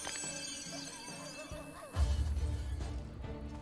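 A horse in Assassin's Creed: Brotherhood gives a short whinny over a quiet musical background, followed by a burst of low rumbling noise.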